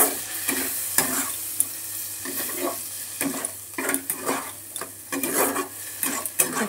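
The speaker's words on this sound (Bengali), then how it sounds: "এবার একটুখানি কষিয়ে নিই মশলার সাথে।" Spice mix and sugar stir-fried in a pan for a taro-and-potato prawn curry, with a steady sizzle under repeated scraping and knocking of a spoon against the pan, close and alone.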